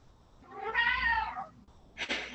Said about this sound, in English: And my cat says hello.